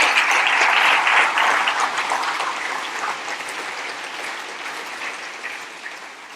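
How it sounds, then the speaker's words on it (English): An audience at a 2017 tech summit claps in a thick, even burst of applause that starts loud and gradually thins and fades toward the end, with no talk over it. "So a round of applause for that."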